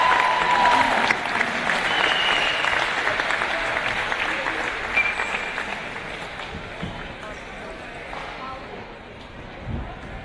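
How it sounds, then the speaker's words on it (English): Crowd applause rings out at a basketball grand final ceremony, a dense, steady clapping wash that gradually tapers, with voices murmuring underneath. "Once again, guys, for your photo, and a round of applause."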